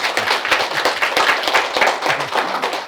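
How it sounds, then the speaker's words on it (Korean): An audience clapping their hands in a lecture hall, a dense, fast and loud burst of applause that carries on steadily for a few seconds. "옆 사람들이 큰 박수 한번 쳐주시죠"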